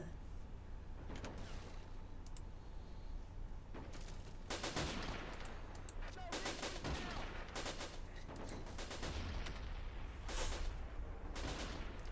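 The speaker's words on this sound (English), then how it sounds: "the Mark 7 is just gonna keep on shelling them" Artillery from a Mark 7 shells enemy positions in the Army Men of War video game, with bursts of booming gunfire and rattling shots repeating across the scene under a low, steady battle din.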